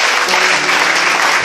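A church congregation clapping for Master Jesus, a loud, dense, continuous wash of hands close by, steady for the whole short stretch with little voice over it.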